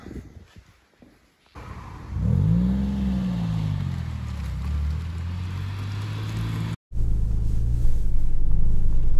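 A Porsche 996 Carrera 2 facelift on Sport 2 tyres pulls away, its engine note rising through the revs and then settling into a steady rumbling cruise, with a brief cut before it resumes.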